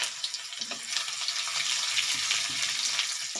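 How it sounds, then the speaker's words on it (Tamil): Garlic frying in a pan for palak aloo sabzi, a steady close sizzle with soft crackles throughout and no talking. "முதல்ல பூண்டை ஃப்ரை பண்ணிக்கலாம்"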